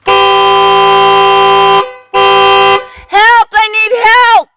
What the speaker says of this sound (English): Honking and then yelling out, I need help.